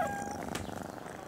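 A cartoon stray cat gives a brief high meow, then a soft, rumbling purr, heard alone and fairly quiet.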